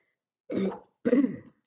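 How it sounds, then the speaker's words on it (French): A woman gives two short, throaty coughs close to the mic, separated by a brief pause, with quiet around them. "je tousse, mais je me suis réveillée comme ça"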